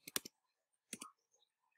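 Keys are tapped on a keyboard to enter a number while solving a geometry problem: two quick clusters of three sharp clicks about a second apart, close and crisp in otherwise near silence.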